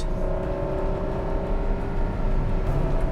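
A Ferrari V12 engine drones steadily and loudly from inside the car, a continuous full-bodied hum at constant level with no voices over it.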